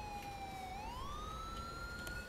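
A police siren wails in the FivePD police game, one clear electronic tone that holds and then sweeps upward, loud and steady against a low engine hum.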